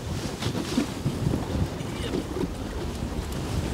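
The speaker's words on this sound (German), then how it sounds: "It's becoming very windy." Strong wind buffeting a small fishing boat out on the water while perch fishing, a constant rough, gusty rush close to the microphone with water noise beneath and no talk.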